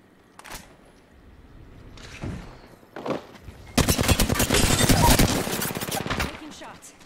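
Gunfire in the battle royale game Apex Legends: a few scattered single shots, then a sustained burst of rapid automatic fire lasting about three seconds, loud and close.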